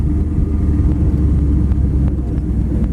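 A 1956 Chevy Bel Air two-door hardtop resto-mod rumbles along while driving, a steady low engine drone with road noise and no talking.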